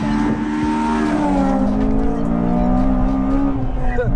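Honda Civic Type R FD2 engine revving up hard from inside the car, a loud, rising and falling rasp with clear harmonics, close by with faint background noise.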